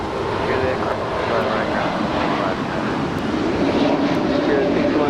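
A Virgin Atlantic Boeing 787 Dreamliner arrives at Los Angeles airport on the London flight, its engines a steady, loud broadband roar that holds evenly throughout, with a voice talking over it.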